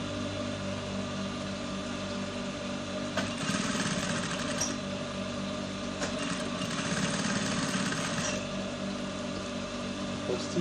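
A sewing machine top stitches the shoulder point of a senator top, running as a steady mechanical hum with a busier, louder stretch midway before settling back to an even drone.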